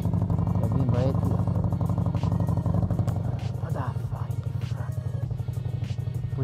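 A CFMoto 1000 ATV engine runs loudly nearby with a steady, rattling rumble, while people talk over it.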